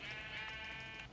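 A sheep in the Minecraft video game gives one sustained, wavering bleat, loud and close, heard alone with no talk.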